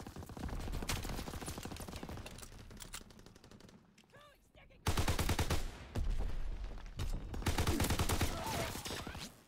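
Gunfire in Call of Duty WWII beta multiplayer: dense, loud bursts of rapid shots and explosions run almost throughout, with a brief lull midway before the firing resumes heavily.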